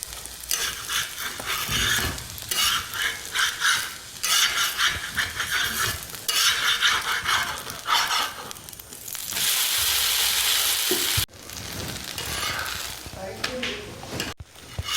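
A banana dosa fries in ghee on a tawa, with close scraping and stirring strokes over a steady sizzle, a louder burst of frying hiss near the end, and speech in between.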